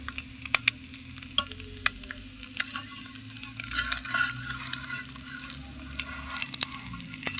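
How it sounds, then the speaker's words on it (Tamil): A plain egg omelette seasoned with salt and pepper frying in a pan after being flipped, a soft steady sizzle punctuated by repeated sharp clicks and scrapes of a spatula against the pan. "இப்போ திருப்பி போட்டுக்கலாம்."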